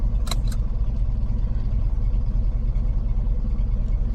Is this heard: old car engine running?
yes